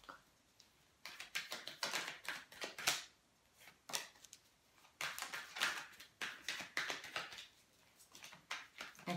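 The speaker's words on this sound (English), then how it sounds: "I'm just trying to get the cards out and trying to focus really good on that" Tarot cards are shuffled and laid out in quiet, close, crisp bursts of flicking and snapping, with irregular short pauses between handfuls.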